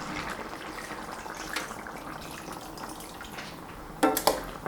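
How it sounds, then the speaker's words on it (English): Hot water poured into a pot of mutton curry with tomatoes and salt, giving a steady, soft liquid rush with a few brief splashes near the end; no talking. "Now we are going to add another 1 cup of hot water."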